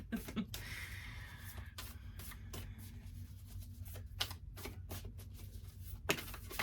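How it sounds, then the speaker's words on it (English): Tarot cards are shuffled by hand at close range, quiet papery riffles and taps coming in irregular bursts against a faint background. "I think it's just me not being able to shuffle today for some reason"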